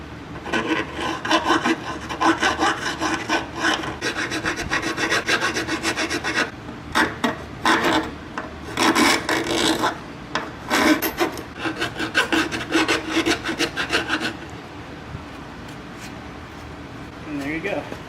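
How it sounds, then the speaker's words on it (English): Metal file rasping down cut-off metal tabs on an XRC bumper fender armor for a 1997-2001 Jeep Cherokee XJ, with repeated close, loud back-and-forth strokes in bursts, briefly pausing, then fading to quieter room noise near the end. "Now I'm going to take a file and grind those down."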